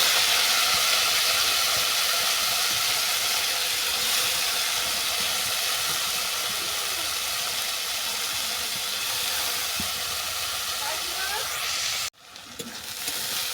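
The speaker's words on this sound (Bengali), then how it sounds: "তেল গরম হয়ে গেছে, এর মধ্যে দিয়ে দেবো সজনা ফুল।" Moringa flowers frying in hot mustard oil in a kadai, a steady loud broadband sizzle and hiss that holds evenly for about twelve seconds before cutting off abruptly, followed by quieter faint noise.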